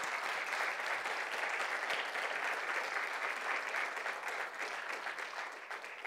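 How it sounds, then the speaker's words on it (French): A church congregation gives sustained, even applause for departing leaders, a dense wash of many hands clapping at a steady level before it tapers slightly at the end. "On pourrait leur donner une bonne main, si vous voulez bien."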